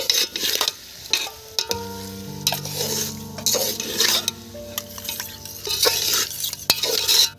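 Chicken biryani stirred in a metal pot, a spoon scraping and clinking steadily against the sides over a low sizzle, with a steady tonal hum running underneath.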